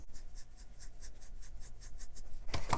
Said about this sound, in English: I'm going to cut this sock off about right here above the heel.